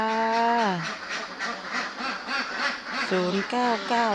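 Ducks quack in short raspy bursts while someone speaks over them, the quacking nearby and repeated.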